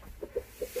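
Backyard laying hens on a sand bed give four short, soft clucks spaced across under a second, faint and a little distant with no talk.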